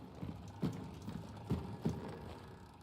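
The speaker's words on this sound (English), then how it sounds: "That's a horse." Horse hooves clip-clop on the ground in the Hunt: Showdown 1896 game world, a few faint, spaced thuds rising above a low ambient rumble with no talking.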